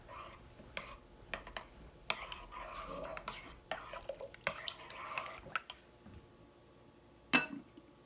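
A spoon stirs oatmeal with maple syrup, vanilla extract, pumpkin pie spice and salt in a crock pot, giving soft wet scrapes and clinks at irregular intervals, close and fairly quiet.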